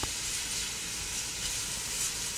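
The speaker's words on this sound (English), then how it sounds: "So let's put a little browning on that meat." Beef browning in a hot pan for an Epirus-style Greek braise with olives: a soft, steady sizzling hiss, faint and close, with no talking.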